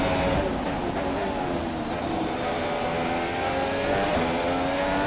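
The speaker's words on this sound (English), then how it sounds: "time for an overtake on Jerome" A Formula 1 car engine in the F1 2017 video game at the Brazil track, screaming at high revs during an overtake, a continuous loud whine with pitch shifts as gears change, alone without talk.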